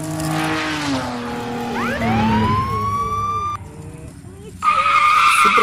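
A supercar skids on a road during a race chased by police: rising and bending tire-squeal tones over steady engine roar, a sudden cut to a quieter stretch, then a loud burst returning.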